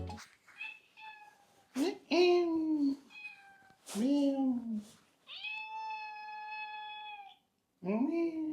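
A hungry cat meows repeatedly indoors, several distinct drawn-out calls with short pauses between them, close and clear, with a person's voice mixed in among the meows.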